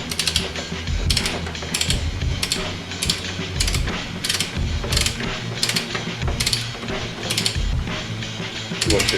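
A torque wrench ratchets in quick clicking bursts while tightening coilovers on a VW Bora, about ten close, regular runs of clicks over a low mechanical background.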